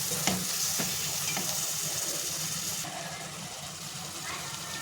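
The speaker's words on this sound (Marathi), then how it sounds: "किती मस्त फोडणी बसलेली आहे" Ground masala with jaggery sizzles loudly and steadily in a hot pan while cooking stuffed bitter gourd, with a few light stirring clinks over the continuous frying hiss.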